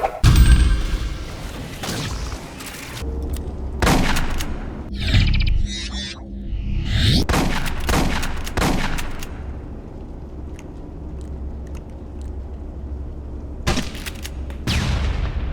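Sci-fi energy shotgun fired in bursts in a video game, Aliens: Colonial Marines, sharp blasts with crackling energy tails at irregular intervals, loud and close over steady background game noise.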